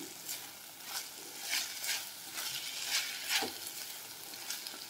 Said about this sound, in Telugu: ఇలా మీడియం ఫ్లేమ్లో పెట్టి బాగా ఫ్రై చేసుకోవాలి.